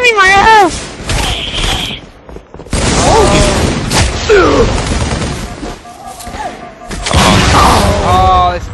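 Bursts of gunfire and heavy booms from a team battle royale video game, loud and repeated in clusters throughout, with people talking over the shooting.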